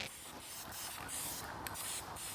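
A spray paint can hisses in short bursts while a second coat goes onto an old Vespa muffler from about a foot away, the bursts separated by brief pauses.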